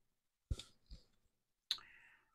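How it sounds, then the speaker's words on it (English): Keycaps snapped back onto a Color Computer 2 keyboard, heard as a few sharp close plastic clicks with short gaps between them and no talk. "Now we just need to put back the keycaps."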